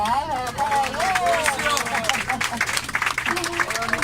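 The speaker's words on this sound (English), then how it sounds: "A nice big round of applause for Marcial" A tour group on a trip to the Timanfaya volcano on Lanzarote claps for their guide, a crowd's steady clapping running the whole time beneath someone talking loudly over it.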